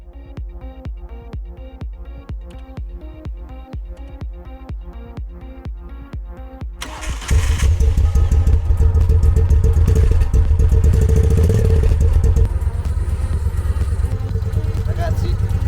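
A Moto Guzzi Nevada 750 custom motorcycle with a rough V-twin engine thumps at a steady, loping idle close by, then suddenly roars louder and keeps running at a strong, full rumble.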